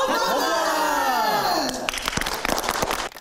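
Chiayi city council members clapping in their chamber after passing a bill banning ractopamine in pork. A voice speaks first, then brisk, close applause from a small group rises and carries on before stopping abruptly.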